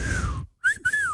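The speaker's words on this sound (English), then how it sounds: "Just whistling into the mic." Someone whistles straight into a microphone, making a close, thin tone that glides slowly downward and then repeats in two short bursts.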